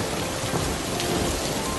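Heavy rain pours down steadily through the night, a dense, loud, continuous hiss of downpour with no pauses and no voices.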